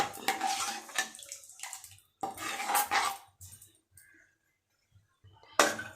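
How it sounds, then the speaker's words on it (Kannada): Water is poured into a cooking pan of masala for a soya bean gravy, giving a close splashing gush in two bursts with clinks of a pan and utensils between them and a final clatter. "ಸ್ವಲ್ಪ ನೀರು ಹಾಕ್ಕೊಳ್ಳೋಣ ಓಕೆ ಇಷ್ಟು ಹಾಕ್ಕೊಳ್ಳೋಣ"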